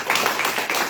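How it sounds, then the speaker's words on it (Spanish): A church congregation claps together in a brief burst of quick, fairly close handclaps. "Vamos a darle un aplauso a nuestro Señor."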